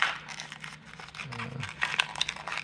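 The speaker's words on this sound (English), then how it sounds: "I can open this package." A plastic package of split shot fishing weights is crinkled and torn open close by, in short quiet rustling bursts with a louder crackle near the end.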